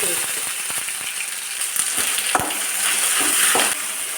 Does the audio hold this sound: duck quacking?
no